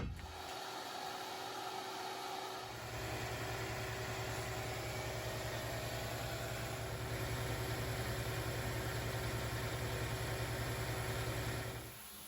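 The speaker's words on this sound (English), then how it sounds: "We'll go through and blast the front and back of the wheel and see how it turns out." An industrial abrasive blaster works on a rally car wheel, giving a continuous loud hissing rush with a steady droning hum underneath that holds for the whole stretch before easing at the end.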